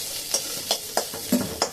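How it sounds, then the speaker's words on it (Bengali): Sesame seeds and onion fried in a pan while a spatula stirs them: five regular scraping strokes, about three per second, over a steady, close sizzle. "দেখুন, আমি ভেজে নিয়েছি তিল বা খসলা"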